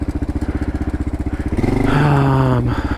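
Adventure motorcycle on single-track trail, a steady throbbing single-cylinder-style engine thump that swells into a louder rev near the end, close and alone with no talk.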